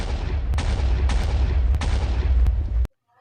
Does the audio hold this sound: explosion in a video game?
yes